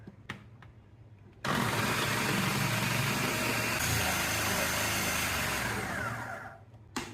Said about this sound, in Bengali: এখানে লক করবেন এরপর যে ফুড প্রসেসটা চালু হবে